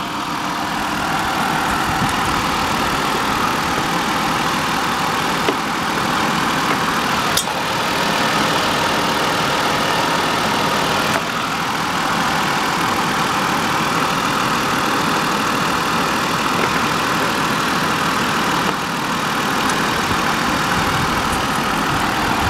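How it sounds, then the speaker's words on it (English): An air conditioner compressor runs steadily while Freon is being charged into the unit, a continuous droning hum with a low rumble that stays loud and even throughout, with no talking. "Compressor's got to do its thing."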